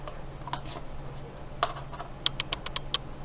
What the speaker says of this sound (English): Just gotta get it behind that keyboard and then pry away.